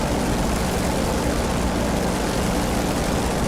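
A Corsair's propeller engine roars in the DCS flight simulator, a dense, loud, unbroken drone of engine and airscrew noise holding steady throughout.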